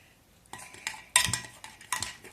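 Homemade yellow slime stirred in a bowl, giving a few separate squelching, scraping strokes with brief clacks, close and moderately loud, with no talking.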